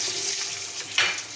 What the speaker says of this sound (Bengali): একই তেলে আমি আলুটা লাল লাল করে ভেজে নেব।